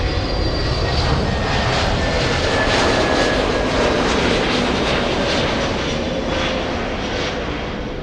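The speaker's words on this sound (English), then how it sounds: "It's American Airlines flying in from Dallas" An American Airlines jet arriving from Dallas at LAX roars steadily and loudly throughout, a broad, sustained engine rumble with a faint whining tone, no voices.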